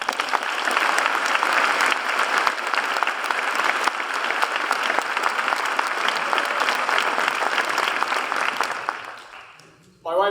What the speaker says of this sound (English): can we do another round of applause for the band?